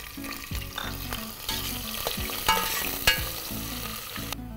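Thinly sliced onion with whole spices frying in a stainless steel Milton ProCook pressure cooker, a loud crackling sizzle broken by repeated clanks and scrapes of a spoon against the pot, close up with no talking.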